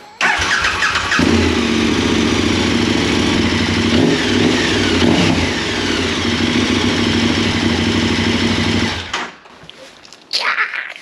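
A 2021 KTM Super Adventure S fitted with an Arrow Sonora exhaust idles and revs loudly up close in a steady, throbbing engine note for about nine seconds, then cuts off and briefly blips again near the end.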